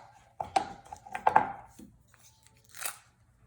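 A knife cubes half a stick of butter on a cutting board with a handful of soft, uneven chops and taps, close and fairly quiet, then a brief rustle.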